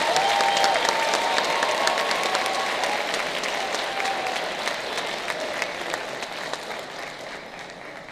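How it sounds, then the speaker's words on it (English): Sustained applause from a large crowd, dense steady clapping that slowly thins and fades over several seconds. "Please, another round of applause for our Honor Roll Presidential Award recipients."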